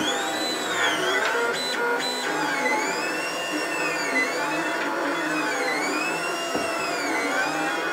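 A 3D printer runs steadily while printing parts for a costume build, its stepper motors whining in sweeping, looping tones over a constant mechanical hum, close and moderately loud with no talking.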